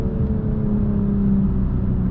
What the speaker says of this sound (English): Downshift, hear the car